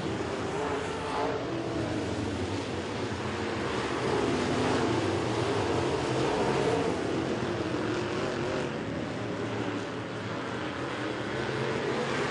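Open wheel modified race cars roar through the final lap of heat race number one at Crossville Speedway, a loud, steady, dense engine wall with slight swells as the pack passes.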